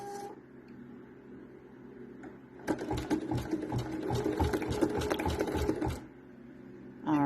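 An embroidery machine stitches a letter onto a Walmart poly school folder at slow speed, a steady rapid needle chatter running for about three seconds between quieter idle hum, close and alone.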